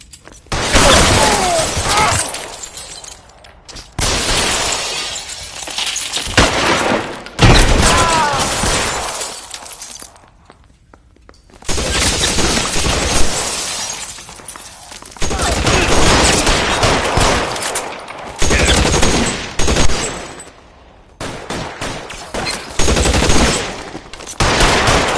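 Dense video-game gunfire from L.A. Noire rattles in loud bursts with sharp shattering cracks, broken by short quieter gaps, while voices shout over the shooting.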